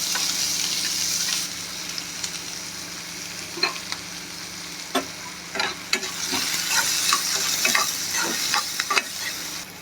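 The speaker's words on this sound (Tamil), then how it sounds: "மிளகாய் எல்லாத்தையும் போட்டு நல்லா தாளிச்சிக்கலாம்." Onion, chilli and mustard seeds temper in hot oil, a steady bright hiss with scattered crackles and pops and a few utensil scrapes building in the second half, close and without speech.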